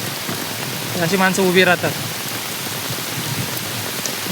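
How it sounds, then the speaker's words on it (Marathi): Rain falls on a rice field during transplanting work in wind and heavy rain, making a steady, close hiss the whole time, while a voice briefly speaks over it. "हे बघा वारा पण आहे आणि पाऊस पण आहे."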